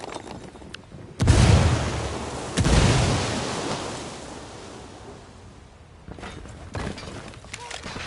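A frag grenade explosion in the Ghost Recon video game, a heavy deep blast followed by a second rumbling burst and a long fading roar, with voices and footsteps around it.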